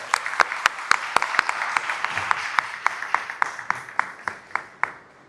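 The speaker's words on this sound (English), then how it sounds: "So let's have a big round of applause for Oliver, sir." An audience claps for speaker Oliver Lin at a design cities talk, a scattered run of distinct claps at a brisk even pace that thins out and fades over a few seconds.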